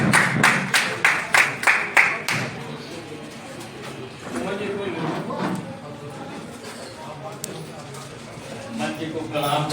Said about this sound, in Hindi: सबकी ताली एक साथ बज दीजिए जोरदार